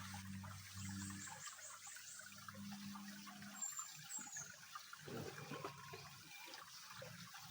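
Steady trickling water runs continuously from a hose, soft and fairly close, with a low hum in the background for the first few seconds.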